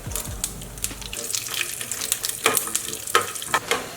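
Cashews and dried red chillies fry in half a teaspoon of ghee over a medium flame for palak khichdi tempering, a close sizzle broken by sharp scattered pops and crackles, with no talking.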